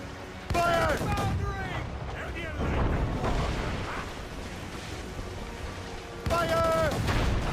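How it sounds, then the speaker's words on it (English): Ship mortars firing in Assassin's Creed Rogue naval combat, heavy booming blasts at the start and again near the end, with shouted voices over the rumble of battle. "We should fire our mortars, Captain!"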